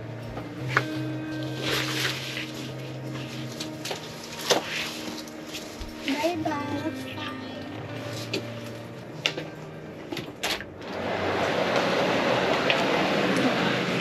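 Steady rumbling and rattling inside a moving train headed to Lao Cai, Vietnam, heard at a low level, with faint clanks and a rising whoosh of noise toward the end.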